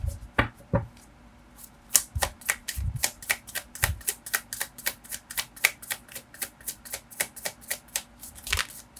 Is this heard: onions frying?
no